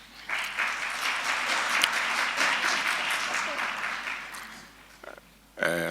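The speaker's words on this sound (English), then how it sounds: "May I request that there be no clapping of hands, please?" Audience clapping at a state capture commission hearing, a sustained burst of applause for about four seconds that fades, followed by brief thumps and a short resumption at the end.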